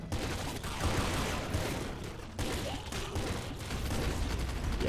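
Big Kraken gun blasting away in the Nuclear Throne Ultra Mod, a dense, continuous barrage of loud weapon fire and crunching impacts running through the whole stretch with a brief dip midway.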